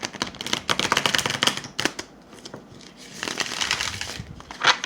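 Tarot cards are shuffled up close in quick bursts of riffling and crisp flapping. A short pause falls midway, then a second flurry of shuffling follows.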